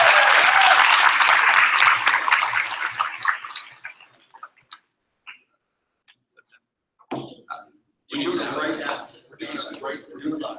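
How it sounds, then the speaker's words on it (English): A conference audience applauds, a dense burst of clapping that fades out after a few seconds, followed by quiet and then a speaker talking. "We have another round of applause for you."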